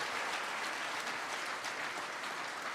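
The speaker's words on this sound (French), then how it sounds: "Ça mérite des applaudissements" An audience at the opening of a heads-of-state summit conference applauds in a soft, continuous patter of clapping that sounds fairly distant and holds steady throughout.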